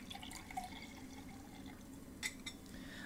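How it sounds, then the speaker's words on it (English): Clear, colorless liquid pours into a glass during a chemistry demonstration, a quiet, steady trickle with small splashes and a couple of brighter drips, faint and alone with no speech. "Let me pour a liquid into the glass."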